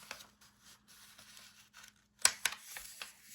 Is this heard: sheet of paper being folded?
yes